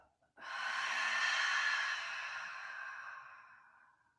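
A single loud, breathy exhale pushed out through the mouth during a guided breathing exercise, starting abruptly and holding steady for several seconds before slowly trailing off, close and alone with no talking.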